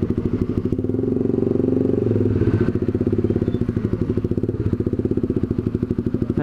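A Honda Sonic 150R motorcycle rides through a busy market, its engine putting out a steady, close, rumbling drone with rattling and clattering throughout and no voices on top.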